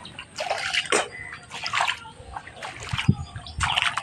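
Rainwater splashes and sloshes in a waterlogged field planted with cauliflower seedlings, coming as irregular close bursts of splatter and trickle with brief quieter gaps between them.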